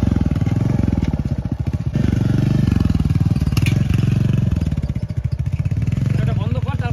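Royal Enfield Bullet motorcycle engine running, a loud, close, steady thumping idle with a distinct pulsing beat throughout, while voices speak over it.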